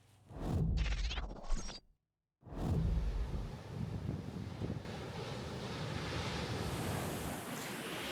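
Strong wind buffets the microphone with a steady broadband roar. A brief cutout interrupts it before the gusty rushing noise returns and carries on without any voices, suggesting wind and rain in Lisbon.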